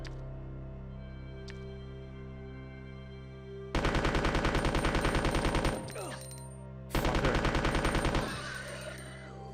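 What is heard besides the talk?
gunshots from Resident Evil 2 video game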